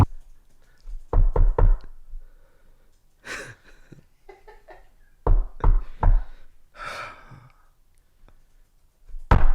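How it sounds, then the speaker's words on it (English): Knuckles rap on a door in quick groups of three, sharp and close, separated by pauses with soft breaths and faint movement between the bursts. "let me knock on the door"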